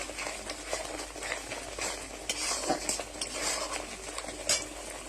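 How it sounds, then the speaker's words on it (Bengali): Spices are stirred and fried in a cooking pan with a continuous close sizzle, broken by scraping and a few sharp clinks of the utensil against the metal. "এবার সব কটাকে নিয়ে আমার নাড়িয়ে নিতে হবে, কষিয়ে নিতে থাকবো সব কটা নিয়ে"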